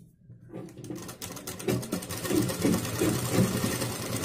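Sewing machine stitching folded fabric piping on a blouse: a steady fast mechanical whir and rapid needle clatter that builds after a brief quiet start and runs on without talking.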